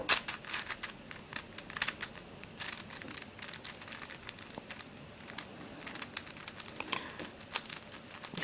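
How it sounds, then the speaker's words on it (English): Rapid plastic clicks and clacks from a TomZ Ice Blue 4x4x6 puzzle cube being turned and corner-cut, faint and close, in irregular bursts with no talk. "Let's see what the corner cutting is like."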